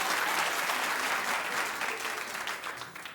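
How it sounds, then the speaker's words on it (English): Studio audience of a daytime talk show clapping, a dense, steady round of applause heard up close that tapers slightly toward the end. "Clap if you like her."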